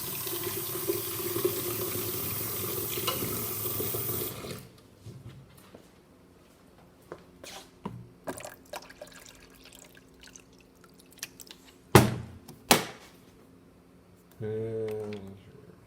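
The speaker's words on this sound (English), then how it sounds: "Okay, gotta add a little water quick." Water runs steadily into a Gaggia Anima espresso machine for about four seconds, followed by quiet handling clicks, a couple of sharp knocks and a brief gurgle near the end.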